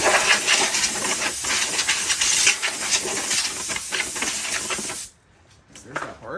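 Compressed air blower attachment blasting dust out of a Miele Blizzard CX1 vacuum, a loud continuous hiss for about five seconds before cutting off to near silence with faint handling noises.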